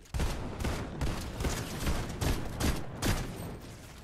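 Rapid gunfire in Fortnite, a sustained run of loud shots in quick irregular bursts, close and continuous for several seconds.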